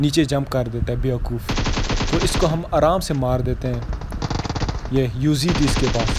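Bursts of gunfire in a battle royale video game rattle beneath someone talking over the action, with the shots partly masked by his steady speech.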